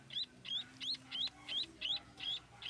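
Myna hatchlings give repeated shrill begging calls at feeding time, about eight evenly spaced rising chirps in a quick regular rhythm, close and fairly loud with no talking.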